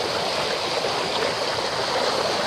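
Flood water released from a dam rushes in a steady, loud broadband roar, a constant churning torrent heard close by with no talking.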